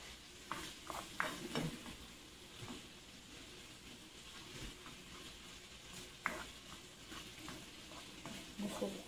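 Garlic sautéing in a pan as a base for a homemade sauce, a quiet sizzle with scattered crackles and occasional utensil stirs, fairly faint and close.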